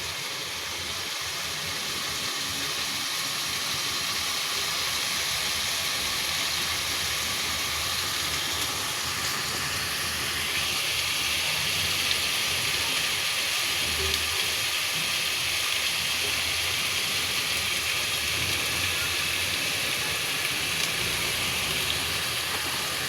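Turmeric and spices frying in a pan for a bottle gourd dish, a steady, close hiss and sizzle running unbroken throughout with no talk.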